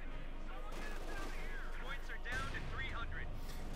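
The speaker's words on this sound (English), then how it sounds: "Rifle getting shot at by like machine guns" Automatic machine-gun and rifle fire in the real-time strategy game Company of Heroes 2, a dense, continuous crackle of rapid shots that swells midway, heard beneath steady commentary talk throughout.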